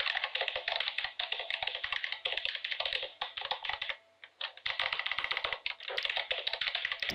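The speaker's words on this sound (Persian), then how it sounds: "اون یکی دوستمون که کیبورد مکانیکی داره." Rapid typing on a mechanical keyboard, close and crisp, with bursts of clicking keystrokes broken by a brief pause midway before the fast clatter resumes.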